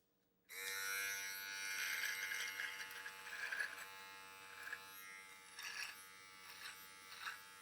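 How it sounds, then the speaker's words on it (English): A USB rechargeable cordless hair trimmer from an 11-in-1 kit switches on and runs with a steady high-pitched electric buzz close up, its tone wavering slightly as it is moved. "Then we have the full trimmer,"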